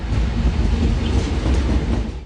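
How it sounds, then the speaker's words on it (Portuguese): A freight train rolls past an old, abandoned station in Brazil's Vale do Paraíba, a loud, steady rumble of wheels and wagons up close that continues without a break, no speech. "Os trens que ajudaram a levar o progresso a muitas cidades da região ainda passam por aqui."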